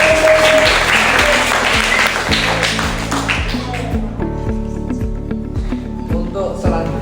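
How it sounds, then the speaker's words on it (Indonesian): Loud audience applause for a group of 8th-grade students at a school co-curricular dish-soap-making presentation, filling the first half before thinning into scattered claps while music or a melodic tone plays underneath. "Tepuk tangan buat kelompok"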